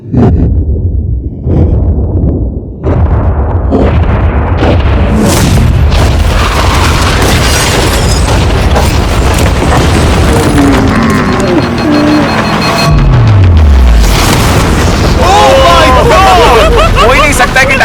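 A tank fires on a yacht, setting off heavy booming explosions that roll on and on, loud and close. A crowd clamours and people talk excitedly throughout, with a falling whistle-like tone partway through.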